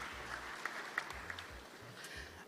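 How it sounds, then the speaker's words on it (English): Faint, scattered clapping from a small audience applauding hackathon participants at a tech conference session, with a few sharper claps rising above a quiet room over a couple of seconds. "A round of applause to everybody that participated in the hackathon"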